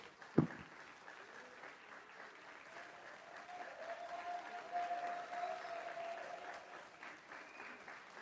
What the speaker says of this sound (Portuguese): Vamos todos aplaudir ao Senhor, as Marias e as Martas